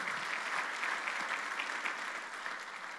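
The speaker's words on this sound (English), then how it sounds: "Come on, clap your hand for the Lord." A church congregation claps together during a Sunday morning conference service, producing a sustained, even roar of many hands with gentle swells in intensity across the whole stretch.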